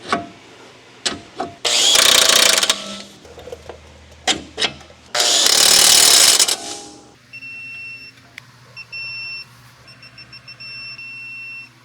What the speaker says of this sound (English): when I tightened everything down to the torque spec, that the impact driver didn't tighten everything the same